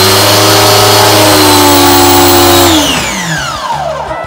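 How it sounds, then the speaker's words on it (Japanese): An Iris Ohyama FBN-301 high-pressure washer runs loud and close with a steady motor hum, then winds down, its pitch sliding lower as it stops. "アイリス大山 FBN301 の音でございます"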